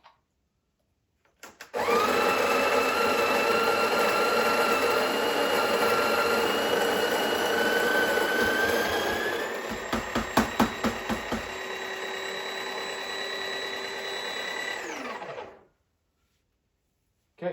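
A Breville Barista Pro espresso machine grinds coffee beans at grind size 8, a loud steady whir running about fourteen seconds, shifting pitch partway through with a few rattling bursts before stopping abruptly.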